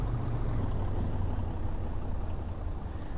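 A truck engine runs steadily while driving, a constant low rumbling drone with broadband road noise, loud and unchanging throughout.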